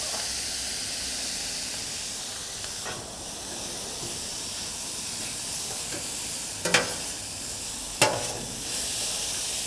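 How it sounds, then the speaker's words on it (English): Onions with Worcestershire sauce and a little salt sizzle steadily on a griddle, a broad close hiss with a few sharp scrapes or clacks of a spatula near the end. "The moisture that comes out of the onions, along with that Worcestershire, kind of deglazes the griddle down there."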